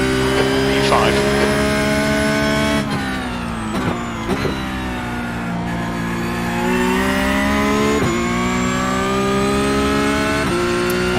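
A Porsche Cup race car in the iRacing game screams around Bathurst. Its loud, continuous engine note rises and falls through quick gear changes and braking dips.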